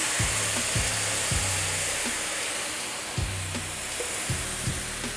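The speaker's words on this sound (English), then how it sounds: "I'm gonna deglaze a little bit with a little bit of white wine" Onions sizzle in a pan before a splash of white wine deglazes it, a loud, continuous hiss close up with recurring scraping stir sounds, no voices.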